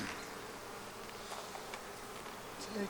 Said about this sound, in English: Holy moly, that's a lot of bees.